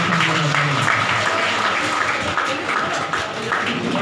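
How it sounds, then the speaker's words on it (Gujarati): Applause at a local Congress party committee meeting in a village hall, steady crowd clapping that fills the room, with faint voices underneath. "બધા તાળીઓથી વધાવી દેવા"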